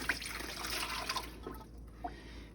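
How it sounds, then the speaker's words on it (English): Water pours steadily into a canner before jars of beef go in, a continuous splashing stream with a few drips near the end, close by and without talk. "So now I'm just gonna pour my water in before I put all the cans in"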